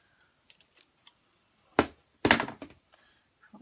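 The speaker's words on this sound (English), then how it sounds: "pink pipe cleaners, and I'm going to cut them in half" Scissors snip through pink pipe cleaners for a ballerina wreath craft, giving two brief crisp cuts close by, with a few faint clicks and taps around them.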